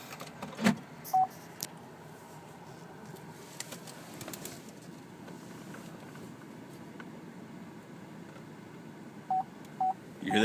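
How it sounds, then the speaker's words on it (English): A 2012 Chevrolet Traverse AWD wagon's parking sensor chirps in short, clear electronic beeps, a few early on and a quicker cluster near the end, over a quiet interior hum. "That's the parking sensor there."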